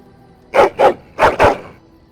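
Four sharp dog barks from Dragon Age: Origins, fired in two quick pairs, loud and close over a quiet background.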